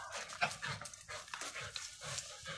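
A dog panting in quick, rhythmic breaths, close by, with a few soft whimpery sounds mixed in.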